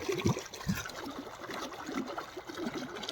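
Irrigation water flows and trickles steadily through a cumin field with soft gurgling, a continuous outdoor stream sound at moderate volume.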